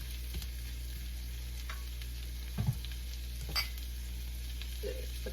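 Garlic sautéing in a pan for a butter shrimp and curry shrimp dish, a quiet steady sizzle with a few soft scrapes and clinks of stirring and no voices.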